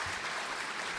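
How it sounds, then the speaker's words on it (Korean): A church congregation at a Sunday worship service applauds the elders as they stand: a soft, distant, even patter of many hands, continuous and without distinct individual claps. "일어날 때 한번 이렇게 박수해 주세요."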